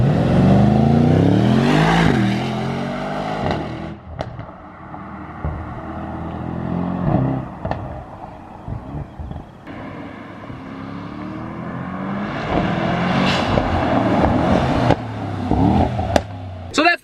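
A loud, raspy straight-piped Mercedes E63S AMG exhaust roars past up close, rising and fading, with a second loud pass near the end.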